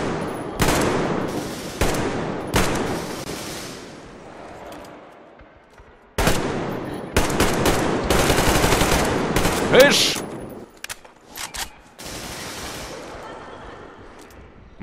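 Gunfire in the video game Metro Exodus: bursts of automatic weapon fire and single shots come in clustered volleys with short gaps, loud and close, while a player briefly calls out over it.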